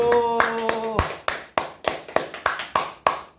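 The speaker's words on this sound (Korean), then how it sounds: "박수" Scattered hand claps from a small audience at a gathering, about nine sharp separate claps spread over a few seconds, with a sustained tone fading out early on.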